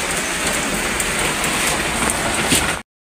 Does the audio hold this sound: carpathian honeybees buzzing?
no